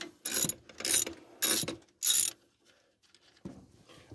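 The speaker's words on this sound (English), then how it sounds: "Get these stupid valve covers off now." Rapid ratchet wrench clicking in four distinct bursts, close and loud, loosening valve cover bolts on a Jeep Liberty 3.7-liter V6, followed by faint clinks and a brief quiet tap.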